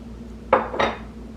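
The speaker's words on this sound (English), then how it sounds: "Let me go pour my soup and turn it down because it's boiling right now." Kitchen pot and dishes as soup is served, two sharp metallic clanks in quick succession over a quiet background hum, close and distinct.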